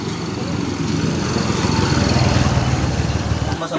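Engines of parked motorcycles run steadily nearby at an outdoor gathering, a loud continuous buzzing drone with a rough low throb that holds level throughout, and a voice is faintly present beneath it.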